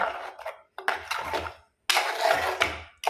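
A ladle scrapes and knocks against a pot while fish curry with masala is stirred, giving bursts of clattering and scraping separated by short pauses, close and moderately loud, with no talking.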